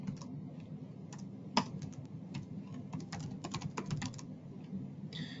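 Computer keyboard typing as an email address is entered into a chat box: a steady run of quick, close key clicks with a few louder taps, alone with no voices.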